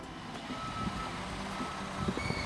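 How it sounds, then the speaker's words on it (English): A truck backing up near an apple orchard, its reversing alarm beeping steadily over a continuous low engine rumble. "A truck takes the fruit to the storage shed, located just a couple of minutes away from the farm."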